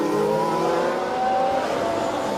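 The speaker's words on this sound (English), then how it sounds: "Verstappen continued to harass Vettel as the Ferrari picked up speed on the new soft tyres" A Ferrari Formula 1 car on fresh soft tyres at the 2017 Australian Grand Prix speeds up, its high engine whine climbing in pitch under a steady broadband roar.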